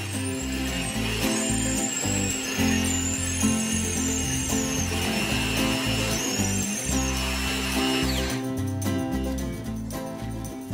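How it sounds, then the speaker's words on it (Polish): A drill bores through a wooden tree stump being made into a plant pot. The motor whines loudly and steadily, its pitch wavering under load, then the drilling cuts off toward the end. "Teraz możemy przewiercić pieniek na wylot i wyznaczyć środek drugiej strony."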